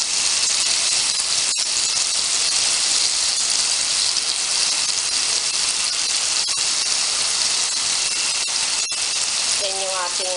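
Onions go into a hot pan with already cooked tofu, producing a loud, steady sizzle and hiss of frying that continues throughout with a few brief crackles.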